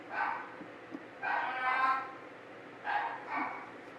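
Several dogs bark in short bursts at a moderate distance, in two clustered rounds with brief pauses between them. A few faint yips come in under the barking, and a quiet indoor room tone fills the gaps.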